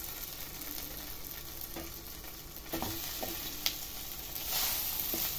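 Semolina snacks frying with spices in a pan over a low gas flame, giving a steady, soft sizzle with a few light stirring clicks and no voices.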